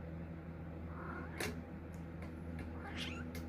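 A cat meows faintly a few times indoors, each call short and separated by pauses, over a quiet, steady room background with no talk.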